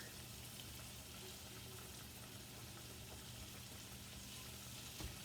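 Venison cubes sear in a hot pan with a steady, even sizzle that runs throughout, moderately faint, with no talking.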